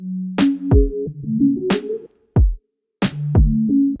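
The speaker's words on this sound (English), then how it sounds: "Like a short snare, and it's very classic." Short, classic acoustic snare hits from an acoustic drum kit in an R&B beat, sharp cracks landing among kick drums and a low sustained bass line in a steady groove, no talking.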